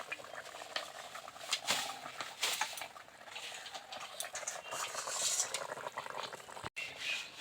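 A fish and spinach curry made with rui and fried lentil dumplings bubbles in a pot. Soft, steady boiling with popping bursts continues throughout, fairly quiet and close.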